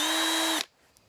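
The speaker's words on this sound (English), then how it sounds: "Drilling a hole" A power drill bores a hole in the body of a Land Rover Series IIA, fitting a lamp guard: one steady, loud whine at close range that stops abruptly, leaving near silence.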